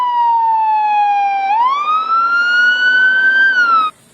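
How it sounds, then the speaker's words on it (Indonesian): Electronic siren from a toy fire engine, a loud close wailing tone that dips, rises and holds steady before cutting off abruptly. "Yang ini pemadam kebakaran."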